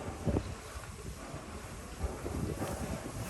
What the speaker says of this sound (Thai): ลมเพิ่งมาเป็นลมเย็น ๆ นะคะ